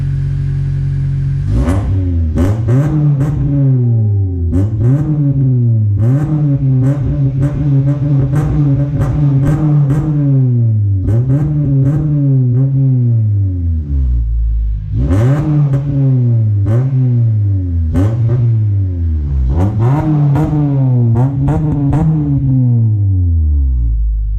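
A 2004 Acura TSX engine revs repeatedly through a loud 3-inch Vibrant aftermarket exhaust, each rev climbing and falling in a steady rhythmic pattern, close and unaccompanied by talk.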